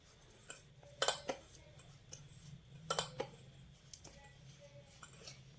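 A spoon clinks and taps against a bowl while sattu flour is mixed with asafoetida and white oil. The strokes are quiet and irregular, with a couple of sharper knocks and small scrapes between them.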